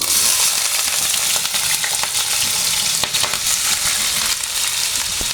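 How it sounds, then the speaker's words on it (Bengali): Potatoes frying in a pan in a home kitchen, a loud, steady hiss and sizzle with crackling pops and occasional stirring scrapes, close up and with no talking. "আমি এখন আলু ভাজি করে নেব।"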